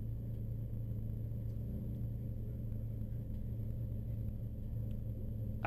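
Low steady engine rumble from Kevin Jones' Citroen Saxo race car as it pulls into the pit lane, a continuous mid-low drone without clear revving peaks, fairly loud and constant throughout.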